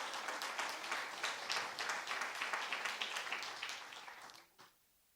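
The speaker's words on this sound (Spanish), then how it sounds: "Yo le diera un aplauso al Señor" Applause from a church congregation, steady clapping across the room that fades out near the end, with no one talking.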